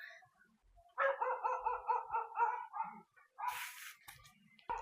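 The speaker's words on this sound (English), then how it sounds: "And my lonely dog up there." A dog barks outside at night, a quick run of about eight close, fairly loud barks followed by a couple more, with short quiet gaps and a brief noisy burst near the end.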